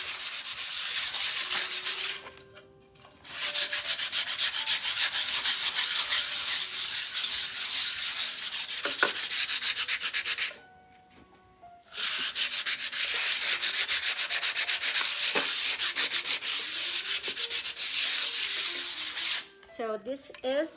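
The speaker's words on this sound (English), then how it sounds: "So this is what it looks like after you sand it a little bit." Sandpaper rubs steadily over a wooden furniture surface being prepped for stain, a close, loud, continuous scratchy hiss broken by two brief pauses, with no talk.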